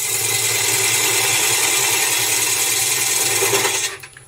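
A wood lathe spins while a tool tip cuts into the turning wood, giving a steady whirring, scraping hiss. It runs continuously, then cuts off abruptly near the end.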